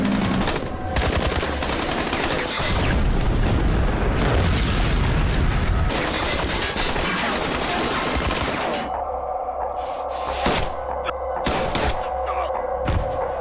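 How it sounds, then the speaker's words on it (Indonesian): Dense bursts of rapid gunfire and booming blasts from a film shootout, loud and continuous, then scattered sharper shots over a humming background. "mereka berdua langsung terlibat baku tembak kembali dengan puluhan tentara Yao"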